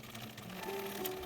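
A sewing machine stitches the side and bottom seams of a bag lining, running in one steady, close, fairly quiet burst with a faint mechanical hum and a rising tone near the end.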